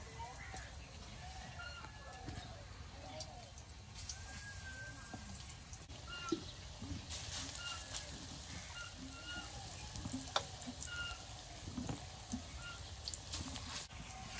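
Spinach fritters frying in hot oil in a kadai, a soft continuous sizzle and crackle at low volume with occasional pops, while a person speaks over it.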